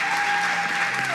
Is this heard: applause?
yes